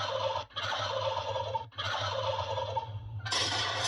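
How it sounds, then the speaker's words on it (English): A domestic turkey in a yard gobbles loudly in several rapid rattling bursts, up close and on its own, with brief pauses between calls. "Hey, that's my turkey."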